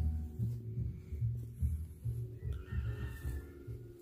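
Chickens cluck and murmur in low, repeated calls close by, with a car engine idling in the background and no talking.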